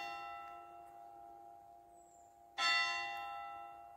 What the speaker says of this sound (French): Les cloches.